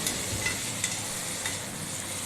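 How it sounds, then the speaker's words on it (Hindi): Potatoes frying with salt, turmeric, chilli and coriander powder, a close, continuous sizzle with a few soft stirring taps, brief and steady without any talk. "और अच्छे से इसको फिर भून लेंगे"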